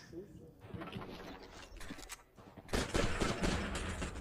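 Rapid gunfire and bursts of shots ring out during a professional Counter-Strike 2 esports match, swelling louder midway under excited commentary.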